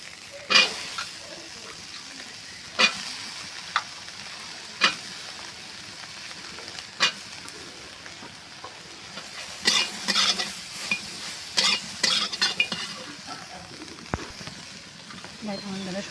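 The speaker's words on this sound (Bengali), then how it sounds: "এরপর আমি সোয়াবিনগুলো ভেজে নেব।" Soybean chunks frying in oil in a pan, a steady sizzle with repeated sharp clinks and scrapes of a spatula stirring against the metal.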